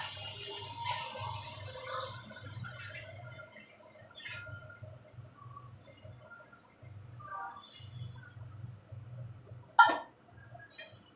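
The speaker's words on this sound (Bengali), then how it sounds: "জল অ্যাড করছি।" Water poured into a cooking pot while making dudh shukto, a soft splashing pour over a faint background hum, ending in a sharp clunk, close and fairly quiet without speech.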